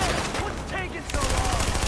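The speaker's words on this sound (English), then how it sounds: "that was a powerful gun" Gunfire from a powerful gun in The Division, a short burst of loud shots mixed with game sounds and a voice speaking over them.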